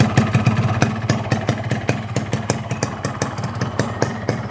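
A two-stroke motorcycle engine burning Gasoli Evolution 2T oil runs close and loud, its sharp rapid popping firing pulses rising and falling as the throttle is blipped, with no voices over it.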